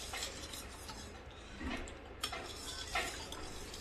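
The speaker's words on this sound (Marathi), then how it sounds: "आता चला हे सगळं ना आपण ढवळून घ्यायचं आहे, जोपर्यंत साखर वितळत नाही तोपर्यंत ढवळतच राहायचं आहे" A spoon stirring milk and sugar in a pot for kharvas, a quiet continuous scraping swirl with occasional light clinks of metal against the pot, close and soft, with no voices.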